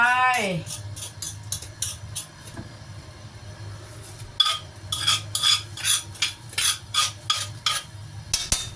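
Curry paste being stirred into coconut milk in a pot for a Thai beef and eggplant curry, with a rhythmic run of metallic ladle scrapes and clinks, close up, under a steady low hum.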